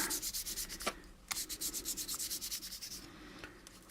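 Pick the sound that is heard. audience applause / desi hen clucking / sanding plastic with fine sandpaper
sanding plastic with fine sandpaper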